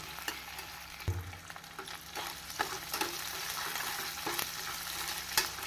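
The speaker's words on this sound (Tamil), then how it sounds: "இப்பொழுது கறிவேப்பிலையை போட்டு விடலாம்" Curry leaves fry in a pan of mutton kulambu with ginger-garlic paste, a close, constant crackling sizzle punctuated by sharp scraping stirs and clinks of the ladle.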